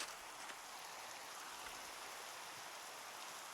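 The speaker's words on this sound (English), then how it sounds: "So you can definitely hear the rain in this sandy biome." Steady rain in a sandy biome in the video game Minecraft hisses evenly throughout, a dense, soft patter with no breaks and no voices.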